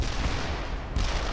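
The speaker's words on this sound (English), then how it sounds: "Launch those grenades now." Grenade launches and gunfire in the World in Conflict video game, heard as a dense, continuous wash of blasts and rattling shots at steady loudness across a brief moment.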